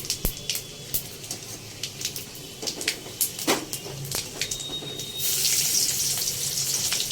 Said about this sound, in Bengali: এই সেদ্ধ করা আলুগুলোকে ভেজে নেওয়া হচ্ছে এবার তেলের মধ্যে চলে গেল পাঁচ ফোড়ন